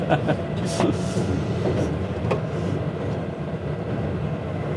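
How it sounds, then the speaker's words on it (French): A freight train running at speed through railway switches, heard from the cab as a continuous rumble with sharp clacks and jolts scattered across the run. "Ça secoue un peu sur le passage des aiguilles"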